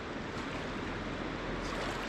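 A fast-flowing river near Bariloche rushes in a steady, broad hiss of churning water, continuous and even, heard alone at a moderate distance.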